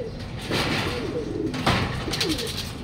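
Racing pigeons returning to the loft at a club training session coo close by, with a soft flutter and a fairly steady outdoor background, and nobody speaking.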